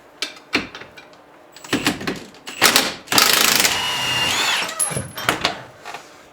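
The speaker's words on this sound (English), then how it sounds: "So we undo that first bolt so it can hang down" Bottom bolt of a rear shock absorber being undone on a Jeep Cherokee XJ, heard as close, loud bursts of tool noise and metallic rattling in uneven spurts, ending in a longer grinding stretch with no talk.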